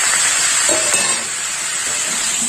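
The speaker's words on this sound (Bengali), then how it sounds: "এবার মটরশুঁটিগুলো দিয়ে দেবো" Mixed vegetables and green peas fry in a pan for a Bengali vegetarian dish, giving a loud, continuous sizzle with faint stirring close by.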